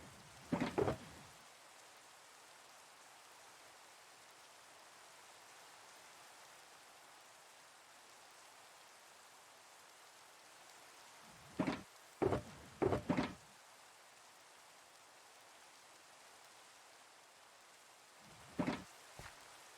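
Steady hiss of rain falling in Minecraft runs under the whole stretch, a soft wash broken by a few short, sharp clacks and thumps.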